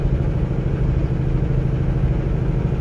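A Cummins engine in a brand new Peterbilt 579 hauling a fully loaded 53-foot trailer, a steady low drone that holds even and loud with no break.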